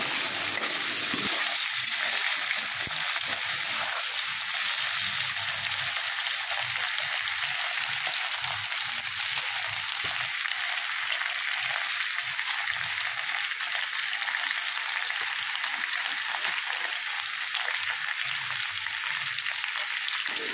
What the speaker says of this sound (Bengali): আলুগুলোকে লাল করে ভেজে নিই